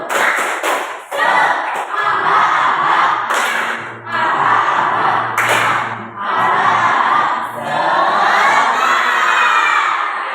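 A group of children in a classroom lesson chant and shout a rhythmic Indonesian tepuk semangat clapping cheer, loud and continuous with bursts of claps and thumps punctuating the chanting throughout.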